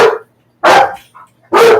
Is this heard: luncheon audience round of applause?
no